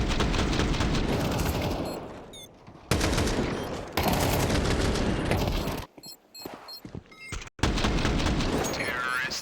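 Gunfire from a Counter-Strike match, Dual Berettas among the weapons, as rapid bursts of shots play in dense layers under loud, excited commentary with brief gaps of quieter clicks.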